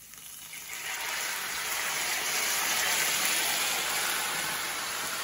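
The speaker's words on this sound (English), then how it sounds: "I'm taking some of the water in there with me because that's going to be some of our sauce." Cooked spaghetti and its starchy cooking water poured into a pan of hot garlic oil for aglio e olio, a loud continuous sizzling hiss that swells in and holds steady.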